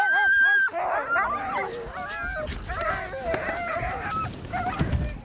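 A crowd of Arctic hunters' sled dogs bark, yelp and whine together in an excited, overlapping chorus that continues throughout at close range.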